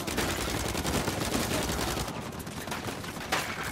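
Rapid, continuous bursts of gunfire crackle through a noisy Uncharted 4 game soundscape, fairly quiet, tapering briefly before another sharp shot near the end.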